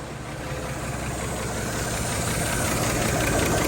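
A 1931 Chevy coupe's engine idles smoothly after a timing adjustment, a steady, close, rumbling putter that grows slightly louder over a few seconds with no talking.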